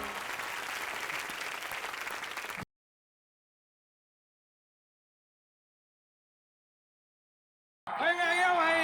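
Loud audience applause at an Indian television comedy show for a singer's birthday, a dense burst of clapping that cuts off into silence and then resumes abruptly at the end.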